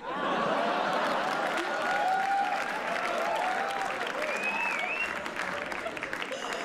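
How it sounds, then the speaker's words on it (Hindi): Sustained audience applause at a live comedy roast show, dense clapping filling the room throughout with a little laughter and chatter mixed in. "अनस के लिए ताली बजा दो भाई।"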